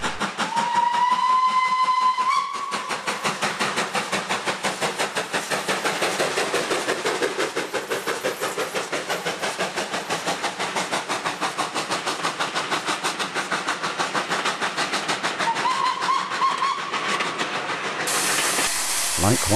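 An N2 steam locomotive departing at Ramsbottom on the East Lancashire Railway: a sharp whistle opens, then rhythmic exhaust chuffs and hissing steam run steadily, a second whistle sounds near the end before a rush of steam.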